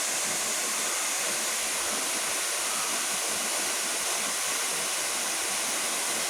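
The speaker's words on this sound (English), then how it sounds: "that waterfall will be a hell of a lot more than what it is right now" A waterfall in Laos, running lower than in the rainy season, gives off a steady, unbroken broadband roar of falling water that stays even and fairly loud from start to finish, with no voices over it.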